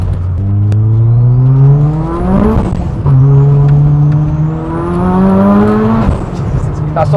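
A 650bhp TurboSystems Ford Sapphire Cosworth pulls hard under loud, close engine noise. It makes two long rising sweeps with a gear change between them, and the exhaust note climbs steadily in pitch each time.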